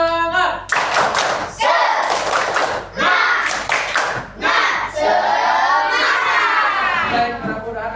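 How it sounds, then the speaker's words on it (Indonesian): A classroom of children performs a rhythmic spirit-clapping routine, bursts of loud unison claps alternating with shouted chanting voices, close and energetic throughout. "Kita tepuk semangat aja ya. Tepuk semangat."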